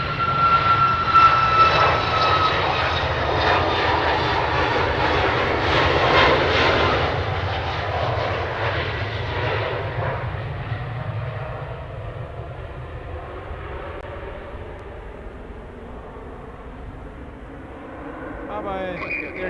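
Air Canada jet airliner, flight 174 to Toronto, taking off from Edmonton International Airport on an evening, with a loud, broad engine roar that swells and then slowly fades into the distance.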